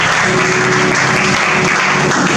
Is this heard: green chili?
no